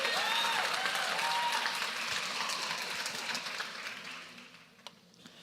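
A church congregation applauds in a thick wash of clapping that gradually fades out toward the end, leaving a few scattered claps and quiet room tone.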